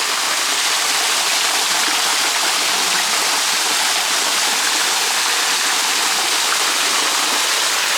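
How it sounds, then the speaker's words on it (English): Steady, loud rush of a rainforest waterfall in uninhabited Australian bush, continuous broadband water noise with no voices. "I'll give it a rinse off under the waterfall"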